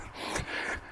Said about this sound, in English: this heavy breathing, rasping sound